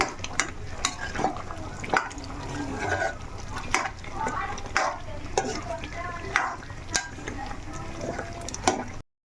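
Green chicken curry with coriander leaves is stirred in a pot, producing soft wet sloshing, scraping and intermittent clinks of a spoon against metal over a low sizzle, while a voice talks at times.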